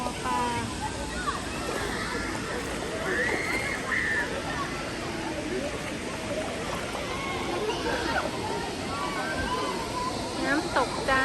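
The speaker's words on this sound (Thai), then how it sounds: "น้ำตกจ้า" A waterfall in Thailand flows low during the dry season, giving a constant close rush and splash of water, while people talk and call out over it.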